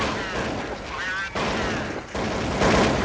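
Desert Eagle pistol fire in a Counter-Strike match, loud sharp shots mixed with other game gunfire and effects, heard under continuous excited play-by-play commentary.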